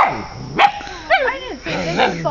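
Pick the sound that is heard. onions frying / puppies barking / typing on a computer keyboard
puppies barking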